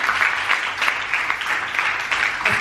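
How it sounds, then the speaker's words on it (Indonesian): Congregation applause at a youth Christmas worship service, an even, lively spread of many hands clapping that carries on steadily without speech. "Yang setuju kasih tepuk tangan yang meriah buat Tuhan."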